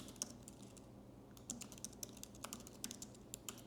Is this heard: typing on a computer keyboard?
yes